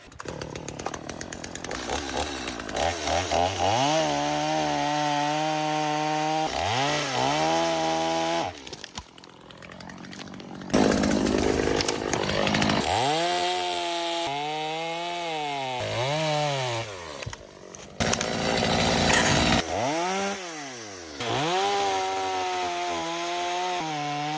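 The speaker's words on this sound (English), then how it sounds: "Nothing will make you feel like a man like running a chainsaw" A chainsaw runs in repeated bursts, revving up and dropping back between cuts, loud and close, with brief pauses in between.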